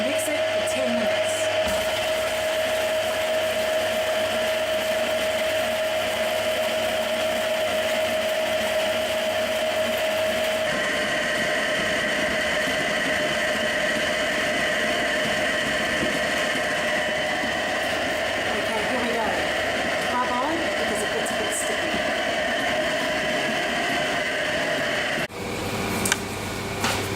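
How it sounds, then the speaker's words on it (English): A stand mixer runs at maximum speed whisking gluten-free strawberry marshmallow, a steady loud motor whir with constant whisk churn that shifts in pitch partway through and continues throughout. "Now we're going to bring that up to maximum speed, it's all sort of slightly mixed in, and then add our flavour."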